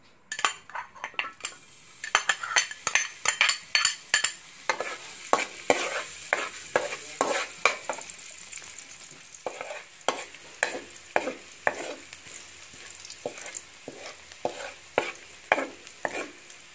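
Garlic fries in oil in a pan while a utensil stirs it with quick, repeated clinking scrapes over a soft sizzle, all close and without speech.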